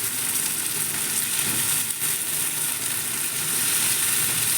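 Chopped tomatoes sauté in a hot pan, cooking down into a paste for a Filipino ginisang kamatis dipping sauce. A steady, dense sizzle and crackle of frying runs evenly throughout with no voices.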